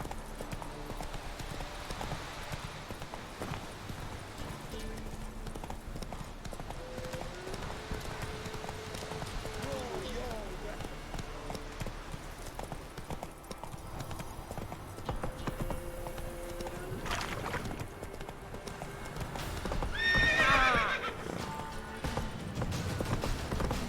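Roach the horse gallops in The Witcher 3 with steady, rhythmic hoofbeats under game music and ambience, and a brief whinny near the end.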